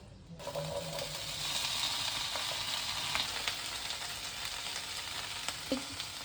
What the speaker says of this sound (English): Quickly give it a stir.